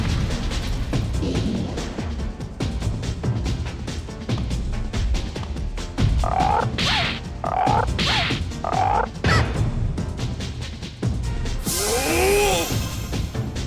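Frog enemies in Legend of Legaia croak during a battle, a series of distinct croaks in quick succession over game music, followed by a louder whooshing attack effect.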